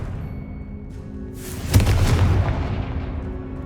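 A Confringo fire spell blast in Hogwarts Legacy erupts as one loud, booming explosion with a rushing burst that swells and then fades over a second or two, following a low ambient hum.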